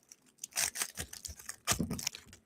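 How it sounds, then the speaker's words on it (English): Scissors cut through a stubborn foil trading card pack wrapper, producing close, quiet bursts of crinkling and tearing in two main clusters with short pauses between. "These pack wrappers are not cooperating, so we're going to scissors today."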